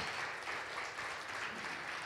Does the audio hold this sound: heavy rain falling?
no